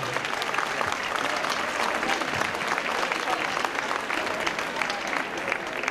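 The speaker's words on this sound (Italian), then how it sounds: "non ho sentito un applauso convinto" Studio audience applause at an Italian television show, a steady, dense wash of clapping that stays loud and even throughout, with crowd noise mixed in.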